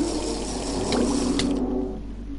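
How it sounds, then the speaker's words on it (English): Gulping, liquid swallowing of a potion being drunk in Minecraft, a steady watery sound that runs for about two seconds before easing off over a low background hum. "Let me just drink my water raven potion."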